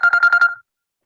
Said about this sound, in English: Somebody answer that phone.